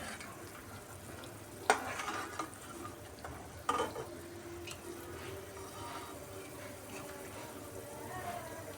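Wheat-flour puris fry in hot oil with a soft, steady bubbling sizzle, broken by two brief sharp clatters of utensils, all fairly quiet and close.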